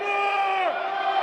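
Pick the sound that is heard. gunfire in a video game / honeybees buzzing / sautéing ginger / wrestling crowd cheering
wrestling crowd cheering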